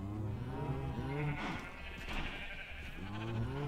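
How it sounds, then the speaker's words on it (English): Sheep in the Minecraft video game bleat repeatedly, several short wavering calls overlapping one another, close and clear, with no talking over them. "Have various colors of sheep."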